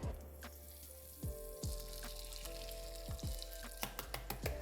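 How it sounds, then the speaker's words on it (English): Eggs frying in a pan give a steady, quiet, close sizzle with faint crackles, punctuated by several soft low knocks and light taps near the end, and no voices. "This is actually the first time I'm cooking an egg in this house"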